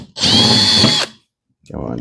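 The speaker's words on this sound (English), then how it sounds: "I'm gonna put a few screws in there." A power drill drives a screw into wood while building a sled for an air bag jack, one loud whirring burst of about a second, a pause, then the drill starts up again, close by.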